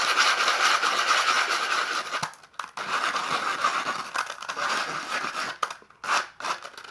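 Plastic on a damaged topkit is sanded by hand in close, rapid scratchy strokes, a continuous gritty rasp broken by a few brief pauses.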